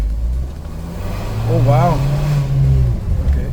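A car engine and exhaust rev hard in a throttle controller's Boost Plus mode, a steady low drone swelling louder under an excited voice.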